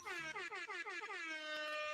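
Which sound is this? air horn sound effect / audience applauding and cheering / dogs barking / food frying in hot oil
air horn sound effect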